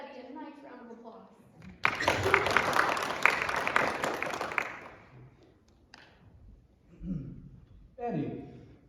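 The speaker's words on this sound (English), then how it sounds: "I think all of us here in the diner should give Eddie a nice round of applause" An audience in a diner setting during a Christmas play breaks into a few seconds of warm, moderately loud applause, with spoken voices before and after the clapping.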